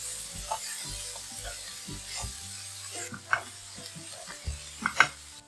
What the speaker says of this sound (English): Add the onions and peppers. Fry shortly to keep the vegetables crisp.